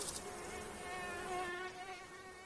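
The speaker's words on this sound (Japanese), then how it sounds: "なんかハエが飛んでる。" A fly buzzes in the My Summer Car video game, a continuous droning whine close by that wavers slightly in pitch, with no voices.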